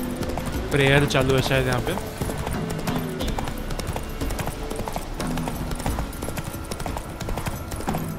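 Witcher 3 horse Roach galloping, hooves clip-clopping in a steady fast rhythm throughout, loud and close, with a short voice over the opening seconds and background game sound underneath.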